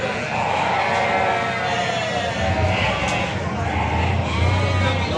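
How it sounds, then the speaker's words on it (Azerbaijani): Ewes with their lambs bleat over and over at a crowded livestock market in Beyləqan, a steady chorus of near and distant sheep calls over a loud crowd murmur, with people talking. "bax belə balalı qoyunlar var"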